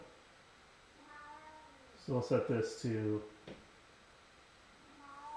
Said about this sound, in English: Sorry if you can hear my cat meowing out there.